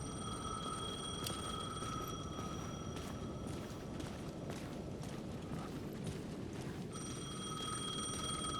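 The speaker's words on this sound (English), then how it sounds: "The payphone was ringing again." A payphone rings in Alan Wake 2 with a sustained electronic bell tone that stops briefly and then resumes, heard alone over a low, rumbling ambient background.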